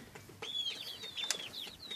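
Young Leghorn chickens cluck and chirp softly nearby, with high peeping calls and occasional clucks over a low background hum.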